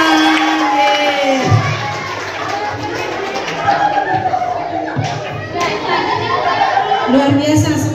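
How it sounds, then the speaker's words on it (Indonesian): Spectators at a primary-school quiz competition final cheer and shout loudly, a lively crowd roar with scattered clapping, laughter and excited voices throughout. "Tepuk tangan."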